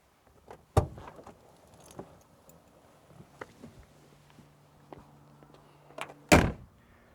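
The boot of a 1981 Vauxhall Chevette HSR is handled in a quiet space: a thump opening it, scattered small clunks and rattles, then a solid slam as it shuts.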